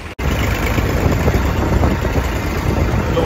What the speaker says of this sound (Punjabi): ਟਰੈਕਟਰ ਚਲਾਉਣ 'ਚ ਬਹੁਤ ਸਵਾਦ ਆਉਂਦਾ